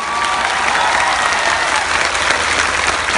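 Loud, sustained applause from a crowd at a political rally, dense steady clapping filling the whole stretch with no pauses and no talk over it.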